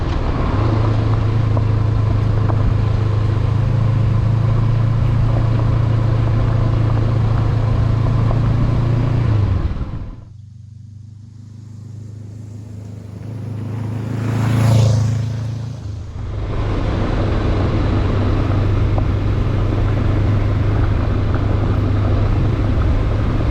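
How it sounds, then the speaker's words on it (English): A 2023 Honda CB500X adventure motorcycle rides a Georgia dirt road, its engine a loud, steady close drone with rushing wind, dipping briefly as the throttle eases off and then swelling back to a constant hum. "letting the bike move underneath me while I'm throttling along"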